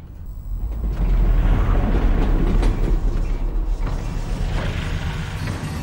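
A train rolls along rails in Half-Life: Alyx, giving a loud, steady low rumble with mechanical creaks and rattles layered over it throughout.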